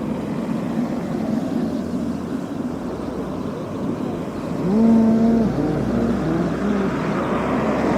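A car drives off on a frozen street in Yakutsk at minus 49 degrees, its engine rumble rising to a brief louder swell before fading back into a steady low outdoor hum.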